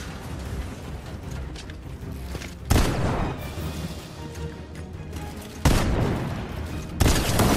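Auto shotgun blasts in a Fortnite ranked match: three loud, broadband bursts a few seconds apart punch through a steady, busy game-background din, with no talk during the clip.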